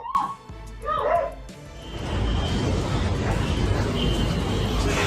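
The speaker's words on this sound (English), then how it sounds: "a bear chased neighborhood dogs down the street." A dog yelps and yips a few times up close as a bear chases neighborhood dogs down a street, then a loud rushing, rumbling noise takes over and drowns everything out.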